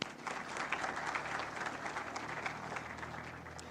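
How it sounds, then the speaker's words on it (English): Steady applause from an audience at a 50th-anniversary celebration in Kenya, dense clapping held at an even level for a few seconds with no voices over it. "a round of applause is in order for all of you"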